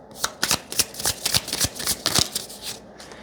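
A deck of oracle cards being shuffled by hand, a quick series of crisp riffling flutters and slaps, close and fairly quiet, with no talking over it.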